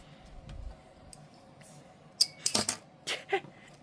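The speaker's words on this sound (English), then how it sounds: "I'm clamping mine to give it a little bit of time to dry" A metal clamp snapping onto a folded paper holiday craft, a soft thump then a cluster of sharp metallic clicks and rattles close by, with quiet background between.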